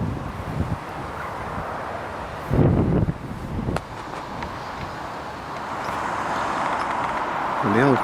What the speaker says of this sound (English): It's dull and a bit windy, but nowhere near as bad as it was yesterday.